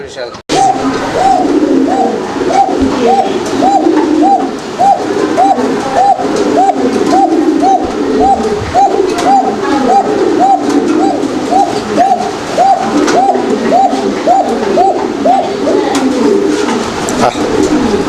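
Pigeon from a feather-footed pair coos in a steady repeating rhythm, close and clear, over continuous background noise and indistinct voices.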